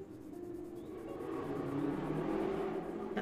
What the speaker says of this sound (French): Ah, une moto. Peut-être une Harley.